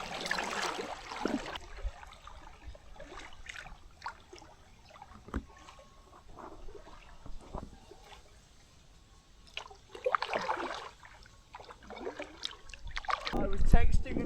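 A kayak is paddled on the Norfolk Broads, with soft splashes and drips from the paddle strokes, faint and close, and a person talking over parts of it.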